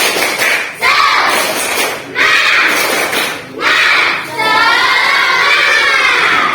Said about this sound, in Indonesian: Pembelajaran pada pagi hari ini diawali dengan tadi tepuk semangat.